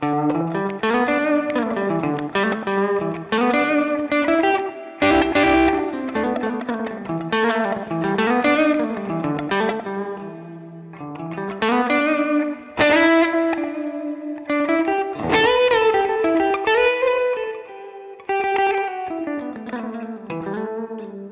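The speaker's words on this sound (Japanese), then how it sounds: "今、オーバードライブとリバーブがかかっている状態で、ここにスラップバックを足してみたいと思います" An electric guitar with overdrive and reverb plays a melodic phrase with a slapback delay added, each note doubled by a quick echo for a thicker, percussive sound, loud and alone without speech.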